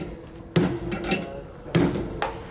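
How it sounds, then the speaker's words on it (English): A hammer strikes the head of a bolt, driving a Dexter heavy-duty suspension bushing into a single-axle trailer. Three sharp, close metallic impacts land about a second apart, with no talk. "So we can strike right on the head of the bolt"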